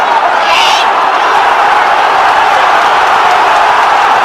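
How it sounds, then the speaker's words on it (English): A boxing arena crowd roars steadily, cheering and urging a fighter on during a WBA super bantamweight world title bout, forming a dense, loud wash of voices with no break. "the crowd's on its feet and urging you on"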